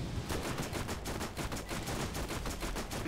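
A steady, fast stream of SMG fire in Borderlands, loud and close, with shots rattling in a continuous rhythm for the full three seconds.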